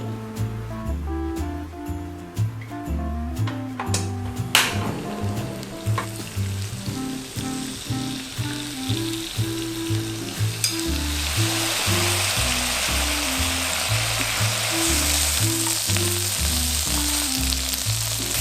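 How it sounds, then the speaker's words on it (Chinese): Strips of vegan soy skin fry in vegetable oil in a pot, giving a loud, steady sizzle with crackling pops and occasional stirring clatter, building into a dense hiss. "所以先倒入一点植物油，把它煎到金黄酥脆。"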